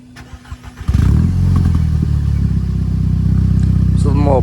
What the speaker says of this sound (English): little burbles on startup